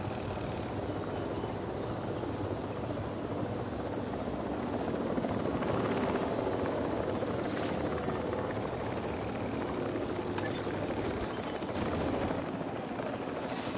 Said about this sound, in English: Attention personnel, please stand by for the returning helicopter.